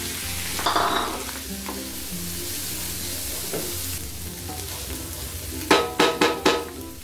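Green peas and mushrooms sautéed in a hot pan give a steady close sizzle and frying hiss, with a utensil scraping now and then and a quick run of sharp knocks near the end.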